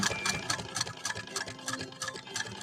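A 1925 Singer 128 sewing machine stitches heavy awning fabric, its needle punching through in a fast, steady mechanical rhythm of ticking clatter, close and alone without talk.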